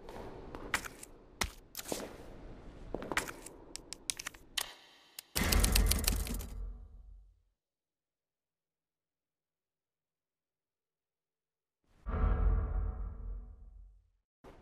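Typewriter clacking in Resident Evil 2 Remake as progress is saved, a run of quick mechanical key strikes, followed by two separate heavy low thuds with silence between them.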